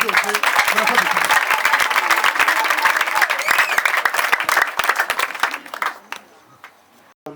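A crowd at a graduation ceremony for vocational trainees applauds loudly and steadily, with a few sharp claps and voices mixed in. The applause thins out near the end and fades almost to silence.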